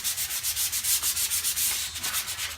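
Dried putty on door trim is sanded by hand with 120 grit sandpaper, a close, even rasping in quick back-and-forth strokes of about five per second, with no voices.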